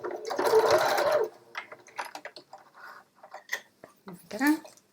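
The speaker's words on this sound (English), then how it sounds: "Just doing my back stitch as I get to the end." Sewing machine back-stitching on scrubs, a short burst of fast close stitching followed by quieter clicks and a second brief run, with a voice heard in between.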